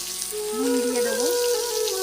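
Grated ginger and salt fry in hot oil in a pan while paneer rice is cooked. A steady, close sizzling hiss runs throughout, with a voice briefly heard over it.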